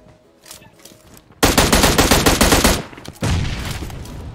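Rapid automatic gunfire in a shooter video game, the player under attack, bursts starting with a sharp loud onset, pausing briefly, then resuming close and dense over faint background sounds.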